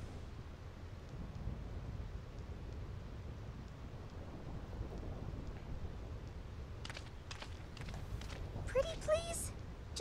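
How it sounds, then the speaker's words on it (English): A constant storm in the video game Final Fantasy X, with steady rain and low thunder rumble throughout and brief character voices and sound effects near the end. "This storm never stops."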